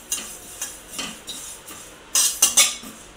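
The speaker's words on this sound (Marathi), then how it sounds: "आता आपण हलकेसे तीळ सुद्धा चांगले खरपूस भाजून घेऊया बारीक गॅसवर।" Sesame seeds roast in an already hot kadhai over a low gas flame, with soft scraping and clinking taps of a spoon, then a quick cluster of sharper crackles near the end. No one speaks.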